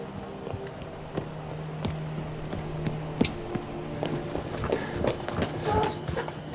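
An army of many soldiers marches in a fantasy war movie, with a dense, uneven patter of footsteps and scuffs building over a low steady drone.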